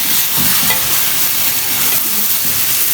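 Onions fry loudly in a pan for a spicy okra dish, sizzling with a constant hiss while a spoon stirs and scrapes through them; no voices.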